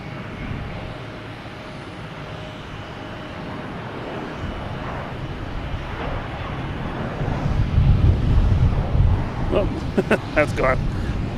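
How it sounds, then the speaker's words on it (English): An American Airlines jet airliner takes off, a steady mid-level engine rumble that swells louder toward the end, with a faint voice in the background. "Taking off from San Francisco, we have American Airlines flight 1413 heading to Charlotte."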